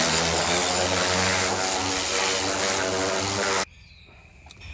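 A high pressure cleaner, used to clean a Victa Silver Streak two-stroke alloy-bodied lawn mower during restoration, drones loudly and steadily nearby before cutting off abruptly, leaving near silence.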